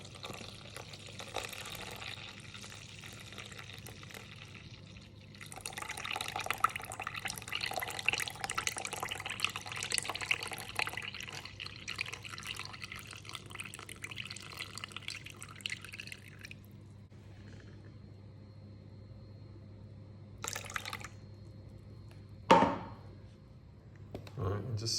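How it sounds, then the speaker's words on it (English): Lukewarm water pours into a bowl of sourdough starter in a home kitchen, a steady splashing trickle of several seconds with a faint drip near the end, heard alongside a low background hum. "And to that we add 350 grams of lukewarm water."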